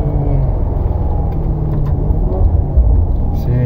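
A 2008 Maserati Quattroporte sedan with a Ferrari-derived engine rumbles steadily while driving, a loud, continuous low drone with a slight rise near the end and no talk.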